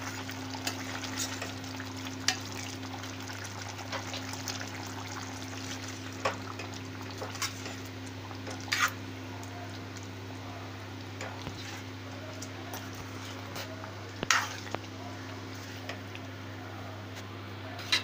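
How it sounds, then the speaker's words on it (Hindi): Potato gravy curry simmering in a pan, a steady low bubbling sizzle with faint occasional pops and clinks, continuous and close, with no talking. "आलू डालने के बाद हम 3 से 4 मिनट ग्रेवी को पकाएंगे"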